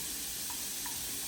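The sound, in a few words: carrots and frozen baby peas cooking in a pan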